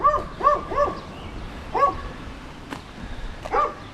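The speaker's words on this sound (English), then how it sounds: "Barky Barkerson barking at us." A dog barks in quick bursts, three sharp barks in a row and then a pause, one more bark, and another after a short gap, fairly close and loud against quiet outdoor background.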